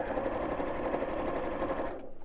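Sewing machine stitching fabric binding onto a bowling bag, overlapping the binding end by about half an inch; a steady, continuous motor whir runs close and loud throughout, then cuts off abruptly near the end.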